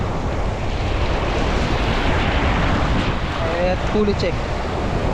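Strong ocean waves surge and wash around a small fishing boat in open water, a steady broad roar with wind buffeting the microphone, while someone talks briefly over the noise.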